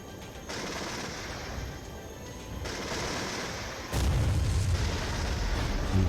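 Bombing of an HQ unit in the wargame Regiments: dense, continuous rumbling gunfire and blasts, growing into a heavier booming barrage partway through, with no voices.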